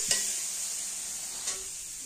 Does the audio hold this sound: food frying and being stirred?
yes